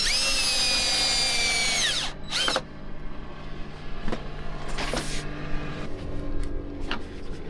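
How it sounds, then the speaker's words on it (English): A power drill whines loudly for about two seconds while fastening aluminum angle to the teak rails of a 78-foot yacht, followed by quieter clicks, knocks and handling noises with no talk. "The first step to putting on the flat panels was to attach aluminum angle to the teak rails."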